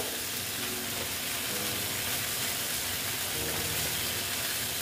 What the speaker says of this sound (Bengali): একটু ভালো মতন আবার এর সঙ্গে কষিয়ে নেব।